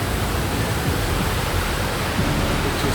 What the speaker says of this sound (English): This is the weir. There's plenty of water in there.